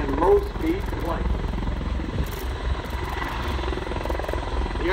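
A Bell V-280 Valor tiltrotor aircraft flies low and slow at the 2019 Alliance Air Show in Fort Worth, Texas, its steady rotor and engine drone loud and continuous, with a voice speaking over it.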